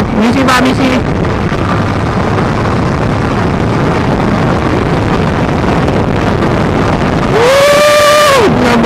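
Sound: group of motorcycles passing

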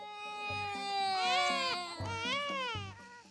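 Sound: baby crying

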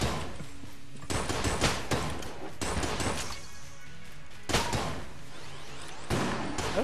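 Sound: gunfire in Enter the Gungeon video game

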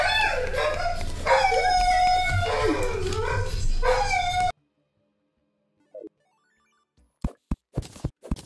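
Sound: dog barking

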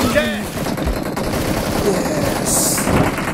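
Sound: gunfire in the video game PUBG Mobile

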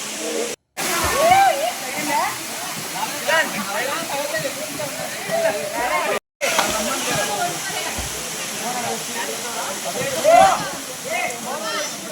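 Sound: Kona waterfall, water falling

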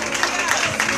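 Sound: congregation applauding

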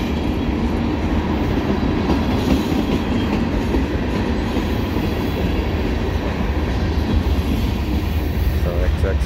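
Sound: CSX mixed freight train passing

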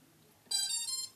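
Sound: timer beeping

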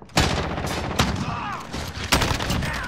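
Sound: gunfire from a shotgun in the video game Call of Duty: Modern Warfare

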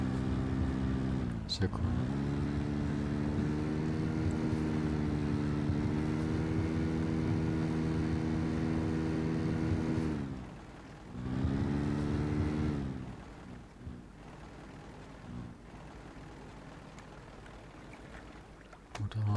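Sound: boat motor running in the video game Rust

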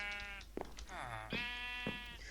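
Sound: sheep bleating on a farm in video game Minecraft

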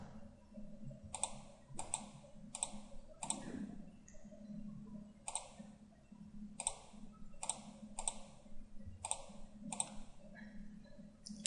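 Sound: computer mouse clicking in Inventor CAD software

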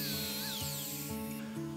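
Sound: cutting a small tab off a wooden roof shingle

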